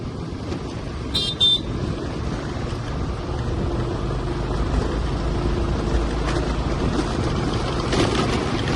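A vehicle rolls along a road near Budhanagudda in Karnataka, giving a continuous engine and road rumble throughout, with brief faint horn toots early on.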